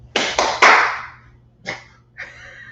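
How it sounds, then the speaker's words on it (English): Three sharp hand claps ring out in quick succession close to the microphone, followed by a couple of softer, more distant claps and a faint background hum. "Clap 3 times."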